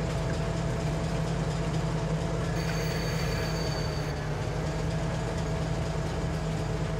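Train engine in Farming Simulator 22 on the Rogue River Valley mining map, a steady low idling rumble and rail drone running continuously at even loudness, with no talk.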